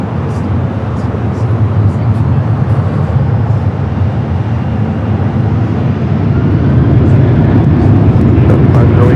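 A Delta airliner on its takeoff roll from runway 24 left at LAX, a loud, steady broadband jet roar that builds slightly toward the end, heard from a distance with faint radio chatter in the background.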